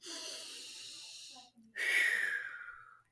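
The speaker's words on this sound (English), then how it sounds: "takes a deep breath" A teacher takes a deep, audible breath close to the microphone, a long airy inhale followed by a brief pause and a hissing, wheezy exhale.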